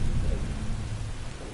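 Steady rain and a low rolling rumble of thunder fill a video game thunderstorm scene from Three Fourths Home, dense and continuous with no voices.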